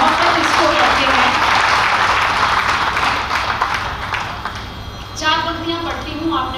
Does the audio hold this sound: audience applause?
yes